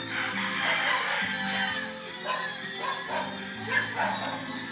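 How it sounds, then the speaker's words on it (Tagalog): A dog barks repeatedly at close range, with sharp yips and a whimpering edge between the barks and no voices. "Bakit kahol ka ng kahol?"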